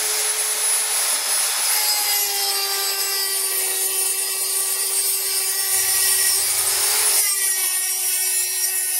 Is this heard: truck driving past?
no